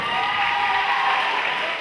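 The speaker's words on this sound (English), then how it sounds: "give a round of applause to those guys up here" Steady round of applause from a summer camp audience, a dense even wash of many hands clapping throughout, fairly loud and uninterrupted.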